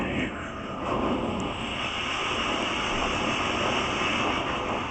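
A performer imitates falling rain with his voice for a live audience, a steady hissing, crackling wash held evenly, moderately loud and close throughout.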